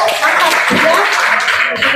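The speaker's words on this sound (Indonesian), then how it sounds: "tepuk tangan lah buat anak ibu" Classroom audience clapping for a student after a teaching-practice presentation, a short burst of dense hand claps filling the room, with voices talking underneath.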